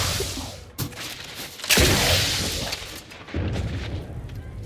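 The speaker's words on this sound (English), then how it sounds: "Keep hearing explosions." Explosions in the video game The Outer Worlds 2: three loud, booming blasts burst out at intervals, each leaving a rumbling tail, over a steady background of game ambience.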